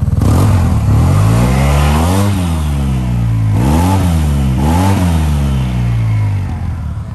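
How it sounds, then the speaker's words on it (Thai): A 2018 Yamaha TMAX SX 530 scooter fitted with an aftermarket exhaust, traction control off, revs hard several times in a row, each loud rise and fall of engine pitch close by with no talking. "เสียงท่อจะมาคนเลยเพราะคันนี้ใส่ท่อแต่งนะครับ"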